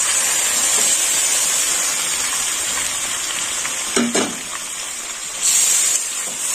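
Chicken pieces and ingredients for chicken Bagdadi go into a hot pan with a steady hiss of frying, a sharp sizzling surge around the middle and another near the end, close and without speech.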